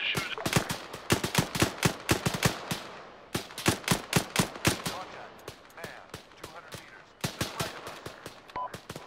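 Rapid bursts of automatic gunfire in the Arma 3 video game, fired at a mine on a bridge during a night co-op mission, loud and near, with short pauses between volleys.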